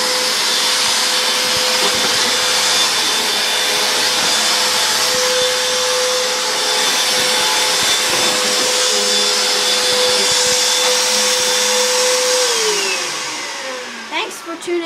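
A household vacuum cleaner runs loudly and steadily with a constant motor whine for most of the stretch, then winds down near the end.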